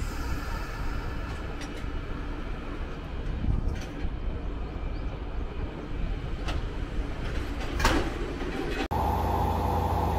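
A Toyama Regional Railway local train runs with a steady, even rumble and faint rattling, close and continuous, ending in an abrupt cut to a different steady tone.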